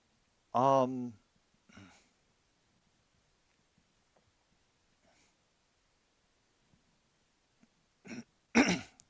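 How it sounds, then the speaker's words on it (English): A loud, close throat clearing into a microphone, followed by a shorter second clear, a long near-silent pause, then another harsh clearing burst at the end. "I apologize for clearing my throat into the microphone"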